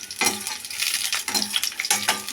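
Eggplant sautéing in hot oil for a spicy Tamil oil brinjal kuzhambu, a soft sizzle broken by several quick scraping stirs of a spatula in the pan, close and fairly quiet.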